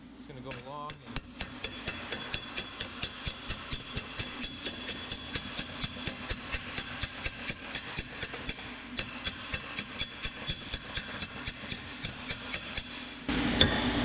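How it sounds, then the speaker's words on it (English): Steady rapid metallic taps of a hammer on silicon bronze held against a flat dolly repeat evenly for many seconds, close and moderately loud, over a faint background hum. "you could try and smooth this out with just a hammer and a dolly"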